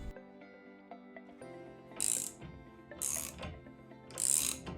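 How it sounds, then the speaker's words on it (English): A 19mm socket ratchet tightens the axle nut on a Finality AT gear drive assembly, giving bursts of ratcheting clicks in three separate pulls, close and fairly quiet, with faint mechanical tones between. "take a 19mm head socket to finish the tightening properly"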